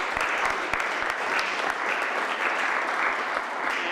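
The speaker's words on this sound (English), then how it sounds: "I think our speakers deserve a nice round of applause." A room full of people claps at the end of a talk session on backyard farming, with steady, dense applause holding evenly throughout and no voices above it.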